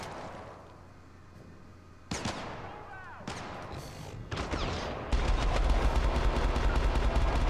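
Submachine gun fire in a futuristic shooter game, sharp bursts and single cracks cutting in abruptly among other combat noise, getting louder and denser toward the end, close and loud.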